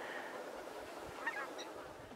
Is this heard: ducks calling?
yes